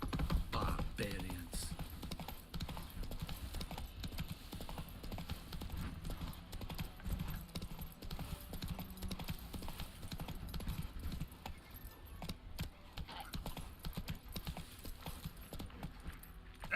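A horse trotting in the video game The Witcher 3, its hooves clip-clopping in a steady, quick rhythm close by with faint tack jingling, and someone speaking briefly over it.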